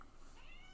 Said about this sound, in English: Sorry if you hear my cat meowing.